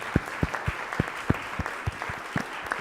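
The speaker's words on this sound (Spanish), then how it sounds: "Un aplauso también" Scattered, sparse applause from a small audience at a youth conference held in a classroom-like hall, roughly a dozen distinct claps falling in an uneven rhythm and heard fairly close.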